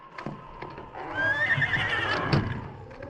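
A horse whinnies in a barn in an old radio drama, a loud rising and falling neigh following a few hoof clops, close up with no talking.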